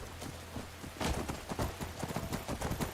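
Horse hooves clip-clopping in the Skyrim video game, a quick rhythmic run of close, distinct hoofbeats that grows louder after the first second and continues steadily, with no talk over it.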